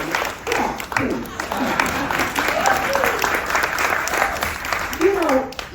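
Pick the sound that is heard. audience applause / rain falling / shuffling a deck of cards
audience applause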